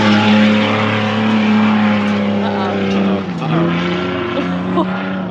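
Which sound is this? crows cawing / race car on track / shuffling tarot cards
race car on track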